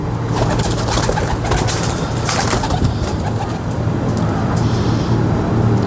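Pigeons coo among dense, steady background noise of birds and passing traffic, the cooing low and continuous without any speech.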